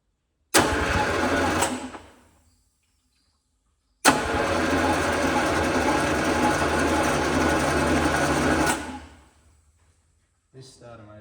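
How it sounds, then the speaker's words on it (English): A starter motor with loose mounting bolts cranks a junkyard Detroit Diesel 6-71N engine in two loud bursts, one brief and one longer, whirring and grinding without the engine catching, then a short faint sound at the end. "This starter motor definitely isn't happy."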